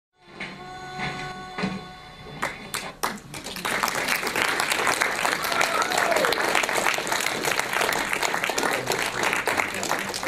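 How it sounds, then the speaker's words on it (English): Audience applause at a film premiere in Boston: a few scattered claps and murmurs swell after a few seconds into sustained, dense clapping from a sizeable crowd, with some voices mixed in. "Big round of applause for Kyle Gage, Dan Leach, Keith Sadik, Nina Shalesky, all the people that made this movie actually good"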